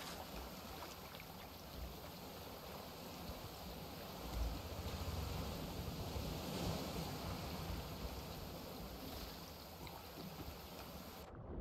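Ocean waves wash steadily in the game Raft, a continuous rushing surf with a watery wash and low rumble, fairly quiet and unbroken, with no talking.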